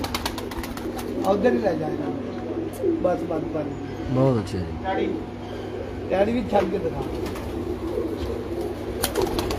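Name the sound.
pigeons cooing and flapping wings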